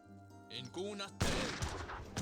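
Gunfire rattles in an Age of Empires 3 battle, a burst of crackling volleys that bursts in loudly after some quieter game tones and voice, continuing as a dense fusillade.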